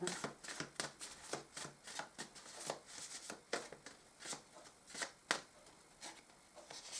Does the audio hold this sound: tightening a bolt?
no